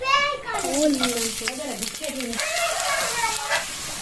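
Onions fry in hot oil in a pan, a steady close sizzle that runs under a voice talking throughout.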